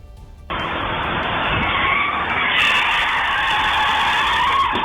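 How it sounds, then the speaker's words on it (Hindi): A speeding white car on a highway skids with a long, loud tire screech and a harsh scraping roar as it slides into vehicles parked at the roadside, the sound starting abruptly and staying strong throughout. "ड्राइवर ने ब्रेक भी लगाया, लेकिन कार फिसलते हुए सड़क किनारे खड़ी गाड़ियों से टकरा गई।"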